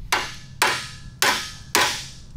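Four evenly spaced hammer blows ring out on a rusty brake drum from an 80s Kawasaki mini bike, each sharp metallic strike followed by a brief decaying ring.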